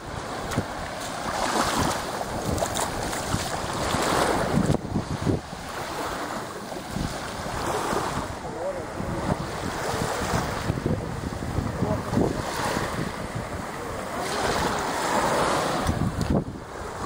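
Ocean waves wash onto a beach in a continuous surging roar, heavily mixed with gusting wind buffeting the microphone, swelling and easing over the whole stretch.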